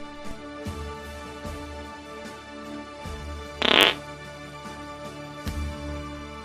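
A single short, loud fart bursts out close by amid otherwise quiet room noise.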